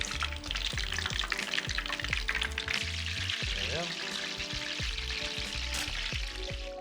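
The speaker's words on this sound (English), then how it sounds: "Then we're gonna fry them at 375." Shrimp and cabbage spring rolls deep frying in oil at 375 degrees, giving a steady crackling sizzle that runs throughout beneath prominent rhythmic music.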